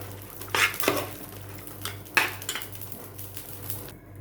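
Marinated chicken being stirred into masala in a pan for Malvani chicken gravy, with intermittent scraping and clinking of a utensil against the pan over a low steady background hum.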